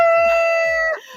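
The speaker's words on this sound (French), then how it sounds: "là c'est le coq qui se fait entendre" A rooster crows close by and loud: a single sustained, strongly harmonic call that holds steady, then drops away at the end, with no talk over it.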